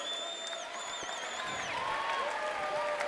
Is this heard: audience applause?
yes